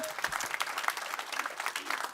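An audience of about 150 at an evening charity event applauds with dense, steady clapping from many hands, fairly close, sustained for a couple of seconds.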